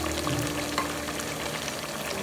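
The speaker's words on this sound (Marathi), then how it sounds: "या सर्व मिश्रणाला व्यवस्थित तेलामध्ये परतून घेत आहोत।" A spice mixture with turmeric and asafoetida is stirred and fried in oil for a Konkan-style chicken curry, producing a steady close sizzle with no speech.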